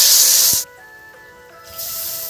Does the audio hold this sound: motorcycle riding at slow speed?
no